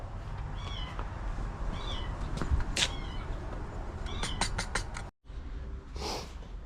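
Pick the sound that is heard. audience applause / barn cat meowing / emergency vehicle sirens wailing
barn cat meowing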